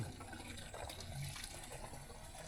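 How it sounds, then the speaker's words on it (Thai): A villager in a rural hill-tribe village scoops water from a clear, clean water source, giving soft, faint splashing and trickling of water nearby, with no clear voices. "นี่ก็น้องอลองเพิ่นมาตักน้ำ"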